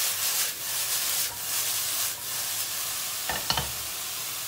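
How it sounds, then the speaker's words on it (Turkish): Eggplant, onion and pepper sauté over high heat in a pan, giving a steady loud sizzle and scraping as they are stirred, with a few sharper clatters near the end. "Yüksek ateşte soteleme işlemine devam edeceğiz."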